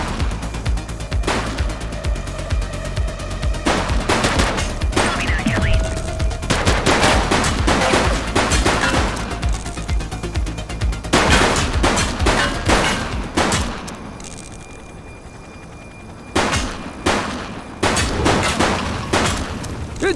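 Heavy gunfire in a police shootout from the video game The Precinct, with dense bursts of rapid shots and booming volleys that repeat throughout, loud and close, easing briefly before more bursts.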